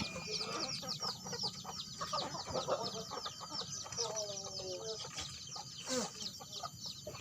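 Indonesian village chickens (ayam kampung) clucking and calling repeatedly in an outdoor yard, with birds chirping in the background and steady ambient noise.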